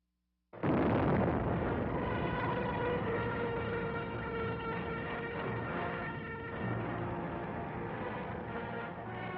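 A 20-kiloton nuclear test detonation from Operation Tumbler-Snapper, 1952, burst at 1,050 feet, begins with an abrupt loud onset after a brief silence, then a sustained roaring rumble that holds heavy and unbroken to the end.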